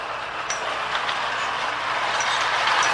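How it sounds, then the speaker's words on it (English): A vintage Marx toy train with a two-way motor running on its track, giving a steady close mechanical whir and rattle with faint light clicks throughout, no talking. "we'll see if we can push our train around here"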